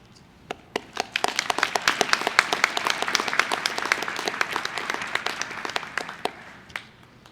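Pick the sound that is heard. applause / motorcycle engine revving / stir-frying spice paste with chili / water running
applause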